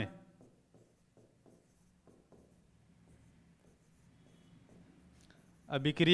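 A pen or marker writing on a board during a chemistry lesson, faint scratchy strokes in short irregular bursts, quiet and close, before a voice starts talking at the end.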